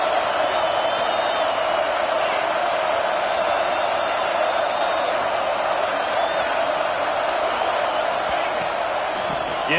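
Steady, loud football stadium crowd roar rising against the offense at a Sun Devils game, a dense continuous wash of voices and whistles with no breaks, while an announcer talks over it.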